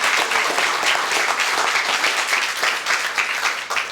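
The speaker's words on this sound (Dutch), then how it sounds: "groot applaus voor Michiel" A crowd bursts into loud, close applause at a Dutch-language talk event, a thick, lively patter of many hands that stays strong throughout and tapers slightly at the end.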